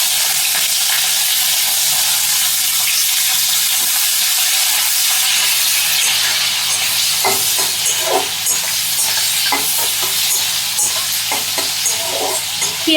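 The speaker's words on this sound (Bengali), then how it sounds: "পেঁয়াজগুলোকে হালকা লাল করে ভেজে নেব।" Sliced onions fry in hot oil with whole garam masala and two bay leaves, a loud continuous sizzle with scraping stirs and crackles growing busier toward the end, no voices.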